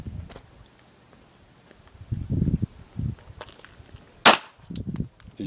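Gunfire at a paper target on an outdoor shooting range, with one sharp loud crack standing out among soft thuds and rustling nearby, mostly quiet otherwise.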